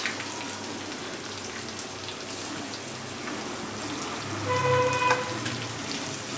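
Chopped onions go into a pan of frying garlic and ginger, making a continuous close crackling sizzle that swells slightly near the end, with a faint clink and tone.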